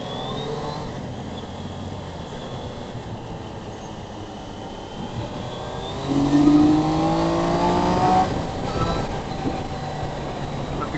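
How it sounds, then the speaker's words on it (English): Motorcycles riding past on a Sunday morning in city traffic, engines droning and rising in pitch as bikes accelerate by, the loudest pass swelling close around the middle before fading. "everybody's out riding their bikes."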